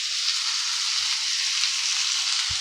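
Spices with salt and turmeric dry roasting in a pan, producing a soft, continuous sizzling hiss with a couple of faint low knocks.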